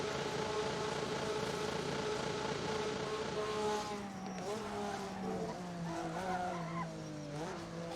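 An RSS GTN race car in the racing game Assetto Corsa, driven flat out: a loud, continuous engine howl whose pitch climbs and drops through gear changes, with tires squealing under hard cornering.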